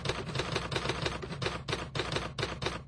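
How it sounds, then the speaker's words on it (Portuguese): A mechanical typewriter clatters steadily as white letters are typed onto black, rapid evenly spaced key strikes close up and loud, with no voices. "Letras brancas são datilografadas em preto e formam a frase"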